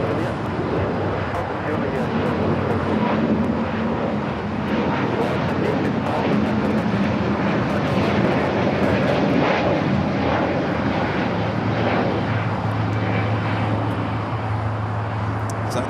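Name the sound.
airplane engines at Los Angeles LAX airport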